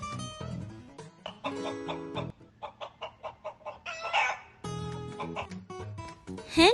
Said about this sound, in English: It's a hen. It sounds like cluck cluck.